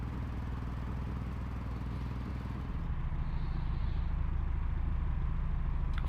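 A small RC Ford Focus racing car engine buzzing continuously, the drone growing slightly louder and more even partway through, with no talk.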